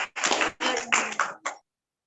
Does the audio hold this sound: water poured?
no